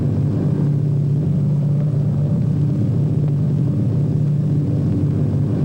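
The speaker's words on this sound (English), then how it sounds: "He can look down and see the tall buildings of the big city as his plane flies over it." A propeller airplane flying over a city, heard as a loud, continuous engine drone with a steady low hum and rumble throughout, with no voices.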